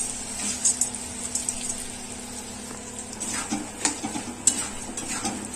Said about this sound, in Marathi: आणि आपण हे आता तळलेले डाळ, खोबरं, शेंगदाणे ना ते पण ह्याच्यात घालूया.